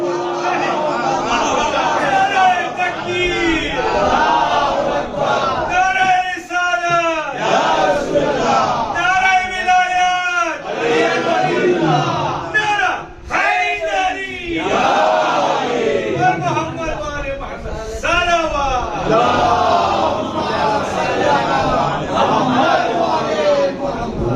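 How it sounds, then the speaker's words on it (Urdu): A large crowd at a religious gathering chants a slogan in loud, rhythmic unison, with repeated voiced calls swelling and falling across the whole stretch, close and full. "بڑا خوبصورت نعرہ لگایا"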